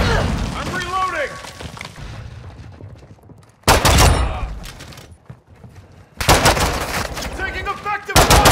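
Bursts of automatic gunfire and booming explosions in Call of Duty Modern Warfare, loud and close, coming in several dense volleys with brief quieter gaps between them and a voice heard now and then.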